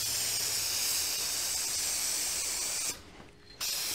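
Aerosol can spraying onto the convertible top of a 1987 VW MK1 Cabriolet, a steady close hiss for about three seconds, a brief pause, then the spray starting again.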